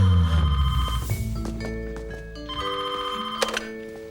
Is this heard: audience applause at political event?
no